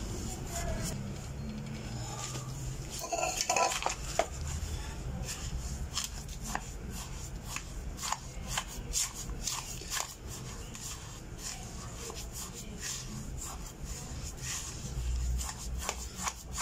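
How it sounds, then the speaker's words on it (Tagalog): Fish and sugar are mixed by hand in a container at a 1:1 ratio, giving a steady run of wet rubbing, squelching and scraping at close range. "Kailangan natin paghaluin mabuti para magpantay yung ating mga sangkap."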